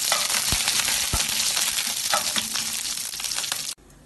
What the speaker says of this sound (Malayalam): എണ്ണ ചൂടാവുമ്പോൾ ഇതിലേക്ക് 1/2 ടീസ്പൂൺ കടുകും 1/4 ടീസ്പൂൺ ചെറിയ ജീരകവും കുറച്ച് കറിവേപ്പിലയും കൂടി ഇട്ട് കടുക് പൊട്ടിക്കാം